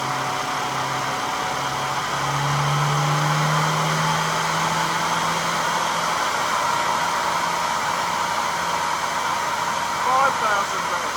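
Tuned 998 A-series engine running at 5,000 rpm on an HS4 SU carburetor, with SW5 cam, ported head and 3 ohm coil: a steady, dense, loud roaring whoosh held throughout, with a faint engine tone under the rush.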